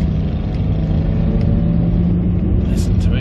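A 1989 Renault 5 1.2TR petrol engine drones steadily from inside the car as it drives along, a constant low rumble with faint higher whine, close and continuous throughout.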